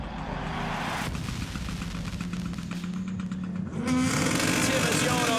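A World RX rallycross car rolls to the starting grid at the 2019 event in Great Britain, its engine roaring loud and close, with the pitch rising near the end. A commentator talks over the engine noise.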